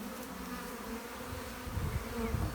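Honeybees buzz in a dense, continuous drone at an open hive being smoked, the hum steady and close, thickening slightly toward the end.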